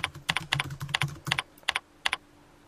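Computer keyboard typing, a short close burst of quick key clicks with a few pauses and isolated taps toward the end, no talking.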